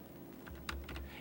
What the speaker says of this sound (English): I drag to select the text and type